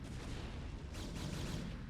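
A photon cannon fires in a StarCraft match, with rapid, dense bursts of booming energy shots mixed into a loud, continuous wash of in-game battle noise.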